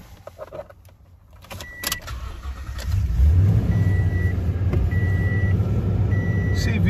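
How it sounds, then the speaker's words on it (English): A 2015 Toyota Tundra pickup cranks and fires up after a few seconds of quiet cabin shuffling, then settles into a steady, close idle with faint chime tones repeating over the engine. "See, vehicle fires right up."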